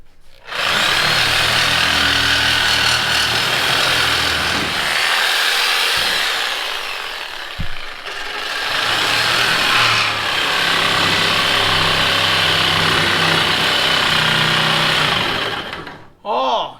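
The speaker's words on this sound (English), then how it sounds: "Make me get the grinder out." A grinder runs steadily in a workshop during a go-kart-to-trail-rig front suspension welding build, a loud continuous whine that dips briefly around the middle before spinning back up and cutting off at the end.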